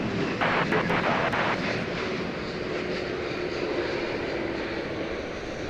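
A Boeing 787-9 Dreamliner jet on the daily flight from Auckland, New Zealand, moves at DFW Airport, a loud, steady broadband jet roar that holds throughout.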